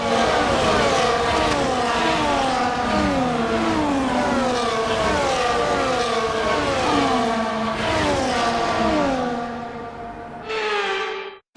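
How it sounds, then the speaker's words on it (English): F1 24 race cars on a formation lap in Bahrain let out a continuous, loud, high-pitched engine whine that rises and falls in repeated upshifting sweeps, close up, and fades before one final brief burst at the end. "The formation lap gets underway, and every driver will be looking to settle in for the race ahead"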